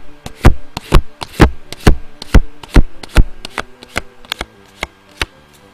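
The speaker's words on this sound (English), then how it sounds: "That's the sound of two cards flapping together." Two playing cards slap and flap against each other in quick, irregular bursts of sharp, crisp clicks, close by and fairly loud.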